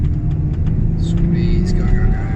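A Ferrari 488 Challenge race car engine drones loud and close from inside the cockpit, a steady low rumble that rises slightly as it accelerates, with a faint voice murmuring underneath.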